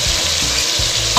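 Mutton frying and being stirred in a karahi, a steady loud sizzle broken by repeated scraping stir strokes, close up with no voices.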